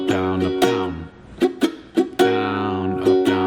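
Ukulele strummed close up in a down-up pattern, bright chord strums broken by sharp muted chucks, ending on a short staccato down strum, played alone without talk.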